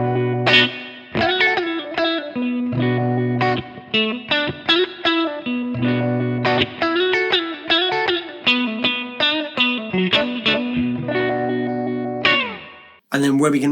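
Electric guitar played through an All-Pedal Microdose 8-stage phaser pedal, loud and sustained with strong sweeping, swirling tone over a steady riff, ending in an abrupt cut.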